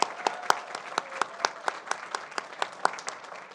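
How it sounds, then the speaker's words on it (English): Applause at a school district board meeting for Teen Poet Laureate competition finalists, a modest sparse scattering of claps in a hall, individual hand strikes clearly separated and fairly close, steady throughout. "Let's give a round of applause for Brooklyn and Sophia"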